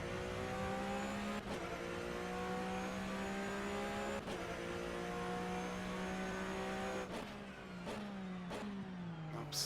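Flat-six race car engine from the rFactor 2 sim at Palm Springs drones loudly and steadily at high revs, with brief shifts and dips in pitch across the run and no voices.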